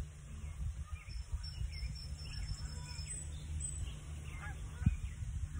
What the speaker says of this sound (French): Dans ces oies sauvages que j'entends.